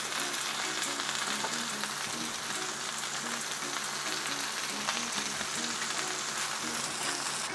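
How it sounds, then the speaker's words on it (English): Turkey frying in a pan beside tomatoes softening over the heat gives a steady, dense sizzle that holds from start to finish, close and even, with no one speaking. "While our tomatoes are cooking, drop in our turkey."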